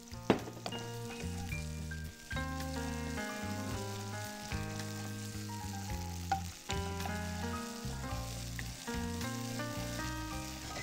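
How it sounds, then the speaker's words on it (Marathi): Onion sizzling in hot oil with ginger garlic paste added, a steady frying hiss running the whole time beneath louder background music. "कांदा परततोय त्याच वेळेला त्यामध्ये जिंजर गार्लिक पेस्ट आपण घेतली आहे ती टाकून घेतो"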